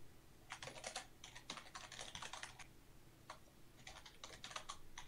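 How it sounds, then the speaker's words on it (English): Bursts of rapid clicking on a computer keyboard, quiet and close, in irregular flurries separated by short pauses, with no speech. "I'm wondering with who you're typing."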